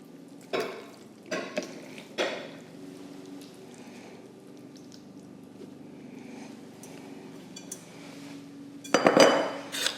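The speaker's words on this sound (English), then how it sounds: "I will scrape that bowl out to get all the goodies" Sauce being scraped out of a mixing bowl with a utensil, several clinking knocks and scraping strokes, close up with a louder clatter near the end and no talking.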